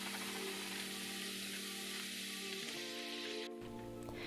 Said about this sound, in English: I'm going to let that saute in the coconut oil for a little bit